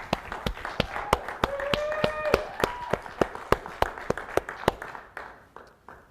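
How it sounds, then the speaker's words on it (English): Scattered, sparse hand claps at a graduation ceremony, individual claps spaced unevenly like a small audience applauding, with a voice talking over the first half and a few tones fading out. "let's give all of our graduates a wonderful round of applause."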